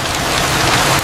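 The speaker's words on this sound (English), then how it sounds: "The air grew heavy, and the rain began." Steady rain falls hard on surfaces, a loud, close, continuous wash of drops with a low rumbling undertone and no voices.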